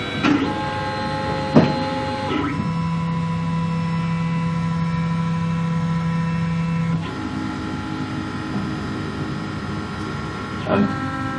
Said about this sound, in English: And now it's doing the outline first, and then we'll start printing the object.